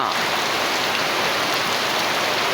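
Heavy rain pours down in an unbroken, loud, broadband hiss in a village, with no voices.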